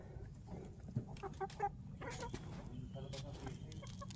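Chickens cluck in short, scattered calls against a steady outdoor background hum, fairly close by, with no one speaking.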